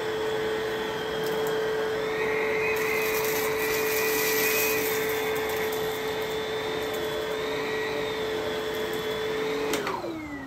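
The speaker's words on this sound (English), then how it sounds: "this machine does have a headlight, so I'm going to pick some of this dirt up, Mike" An Aerus Lux Legacy vacuum cleaner with a headlight picks up dirt from a floor, running as a loud steady whine close by, its motor pitch shifting slightly mid-run and dropping away near the end.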